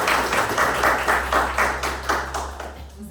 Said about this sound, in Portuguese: salva de palmas pra ele